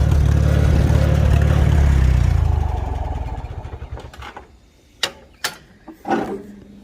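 A 1943 Farmall H tractor engine runs loud and rough for a couple of seconds, then drops away to a low idle, with a few sharp clunks and knocks near the end.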